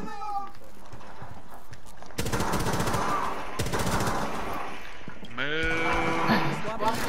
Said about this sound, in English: Stop shooting me, you fucks!